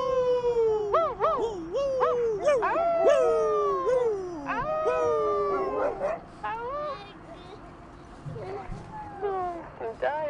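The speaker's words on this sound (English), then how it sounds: "Make your dogs bark again for me, would you please?" Several dogs howl and yelp together in close, rising and falling wails, with overlapping barks and whimpers that thin out toward the end.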